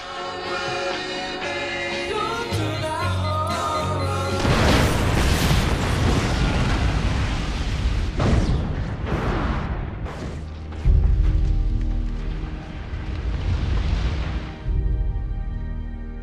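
A loud, sustained explosion on a ship's deck in a film, with a deep rumbling roar and crackling debris, swelling and surging again midway amid dramatic film sound.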